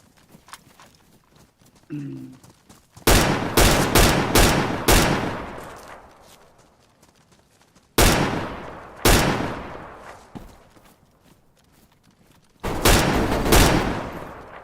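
Bursts of rapid gunfire from the video game DayZ come in several volleys separated by pauses, sharp and loud, with a brief voice in between.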